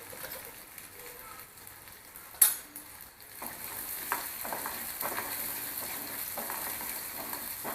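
Ragda cooked with red chilli powder and coriander-cumin powder sizzles and fries in a pan over lowered heat, a steady hiss under scattered scraping stirs, with one sharp clatter early on.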